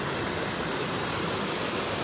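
Rain-swollen stream water rushes steadily, a dense broadband roar heard close with no voices.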